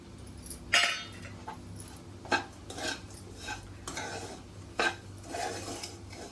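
Raisins and charoli nuts are stirred into a pan of semolina and coconut for ladoo, with a spoon giving several sharp metallic clinks against the pan over a low steady background.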